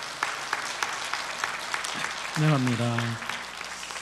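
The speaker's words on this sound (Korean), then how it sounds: "격려의 박수, 환영의 박수를 부탁드립니다" Church congregation clapping to welcome new members, a light spread of scattered claps running throughout, with a few spoken words of welcome in the middle.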